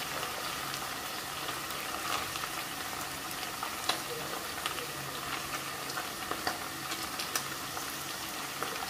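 Onion added to browned meat in a hot pan hisses and crackles in a steady, close sizzle that keeps an even level throughout, with no talking, while cooking Kazakh nan salma (maiqamyr).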